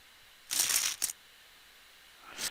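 A short clatter of chips in the PPPoker online poker game, two quick bursts around the first second and another starting at the end, crisp and isolated.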